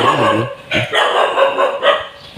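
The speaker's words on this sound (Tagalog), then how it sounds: "Pasensya na kayo sa tahol ng aso." A dog barks repeatedly and close by, several quick loud yaps in a row.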